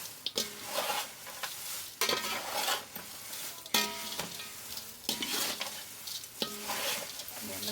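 A spoon or spatula repeatedly scrapes and stirs a chivda mixture frying in a pan, sizzling steadily throughout with no talking.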